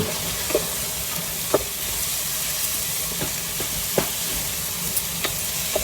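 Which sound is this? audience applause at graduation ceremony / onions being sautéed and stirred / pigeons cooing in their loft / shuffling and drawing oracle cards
onions being sautéed and stirred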